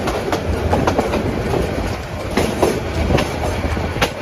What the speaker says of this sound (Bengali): এই ট্রেনের প্রতিটি চাকার শব্দ যেন জীবনের পথ চলা, কখনো ধীরে কখনো দ্রুত